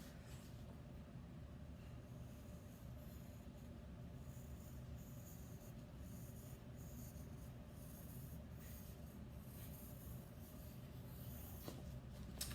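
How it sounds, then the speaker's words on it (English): A pencil traces around a hand on paper in a long, faint, continuous rubbing scratch, soft and close, with no talking. "I'm just going to put my hand on my paper and trace."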